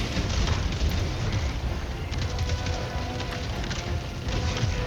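Blown-up object in Helldivers 2 erupts into a loud, sustained roar of fire and rumbling debris that holds steady for several seconds, with no talk over it.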